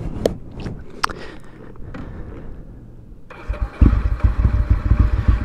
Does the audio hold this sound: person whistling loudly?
no